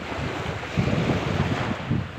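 Strong wind buffets the microphone on a rocky seashore during shore fishing for squid, a steady broadband roar with gusting low rumble and surf-like wash, continuous and loud with no talk.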